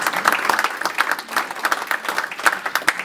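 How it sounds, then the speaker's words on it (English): Clapping from a crowd at a Rotary Club meeting, loud and sustained for a few seconds with a dense, even texture. "let's round of applause to thank these folks and congratulate them"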